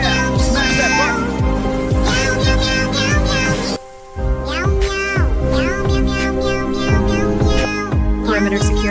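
Animated cartoon cat meowing repeatedly in high, bright, overlapping calls over a continuous musical backing, with a brief drop near the middle.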